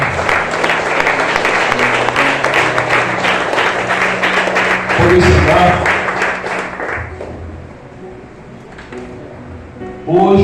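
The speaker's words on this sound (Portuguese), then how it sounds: "Aplauda o Senhor porque Ele é digno" A church congregation at a Sunday family service claps together in a steady, rhythmic beat for several seconds, then the applause fades out and someone speaks briefly in the quieter room.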